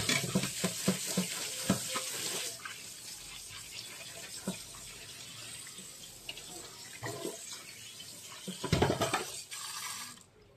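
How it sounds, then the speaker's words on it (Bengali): Tap water runs and splashes in a kitchen sink while prawns are washed by hand, a steady close rush of water with intermittent clatter and sloshing bursts. "মাছ কটা মোটামুটি ধোয়া হয়ে গেছে"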